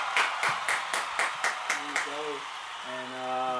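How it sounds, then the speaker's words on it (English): A handful of people clap for the Dodgers' win in a small podcast room, about eight sharp, evenly spaced claps, followed by tonal, voice-like sounds after the clapping stops. "Let's clap for that."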